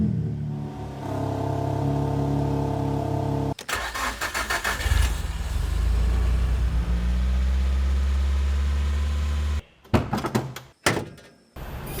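A Nissan Silvia engine idles steadily and loud up close, a brief door thunk cutting in, then it revs and settles into a deep drone before cutting off, followed by a few short knocks.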